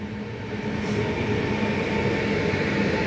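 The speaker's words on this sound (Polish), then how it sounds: "Pojechał pociąg, papa" A train passes a level crossing at Grębocice with a steady, loud rumble of wheels and cars rolling by close, a sustained low roar with no voices.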